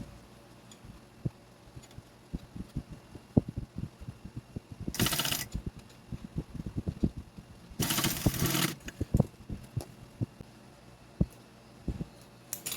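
A sewing machine stitches the bottom of a fabric shoulder bag: close, irregular mechanical ticking and clicking, broken by two louder bursts of rapid whirring stitching, with no talking.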